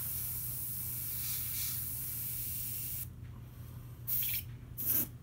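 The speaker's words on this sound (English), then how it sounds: "Helps if your airbrush is working." An airbrush spraying paint for a moon and mountain scene gives a steady, faint hiss that runs unbroken for about three seconds, then turns patchy with short bursts as the airflow falters.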